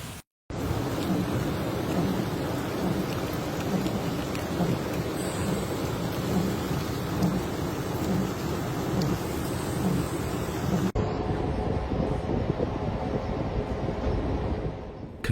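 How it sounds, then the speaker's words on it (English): Heavy rain pours steadily during a thunderstorm in Oklahoma City, a dense continuous roar with rumbling low thunder mixed in, loud and unbroken, shifting slightly in tone near the end. "heavy rain has made a troubling return to the southern plains"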